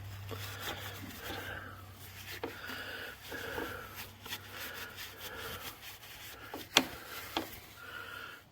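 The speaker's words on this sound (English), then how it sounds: "Grab yourself a rag and wipe as much of that gunk off from around there as you can." A rag scrubs softly and repeatedly, wiping grease from around the oil filter area of a John Deere E100 lawn tractor in a series of quiet, uneven rubbing strokes.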